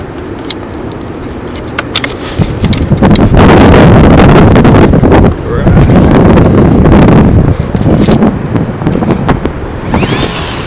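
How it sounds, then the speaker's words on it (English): Gusty wind blowing outdoors, buffeting a helmet-mounted camera mic while a 3D EPP foam Yak model plane is flown, loud broadband rumble rising and falling in strong gusts throughout. "It's pretty windy."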